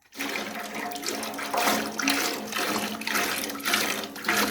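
Water for Zuppa Toscana soup pours into a pot, a continuous splashing gush that rises and falls slightly over several seconds, loud and close, with no talk.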